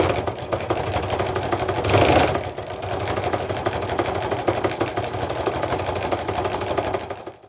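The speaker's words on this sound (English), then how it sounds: "So I'm gonna sew a line, just a straight line, down both sides of this line that I drew" Sewing machine stitching a straight line along a quilted pillow, a steady, close mechanical whir running continuously with a brief louder stretch near the start and no talking.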